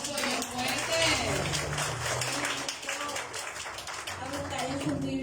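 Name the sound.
applause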